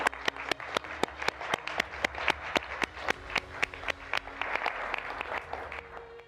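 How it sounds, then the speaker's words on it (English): Wedding guests applaud a newly married couple, Mike and Hannah, right after their vows, with sparse, distinct claps, fairly close and steady for several seconds, from a small gathering. "I think our couple deserve a little round of applause for that."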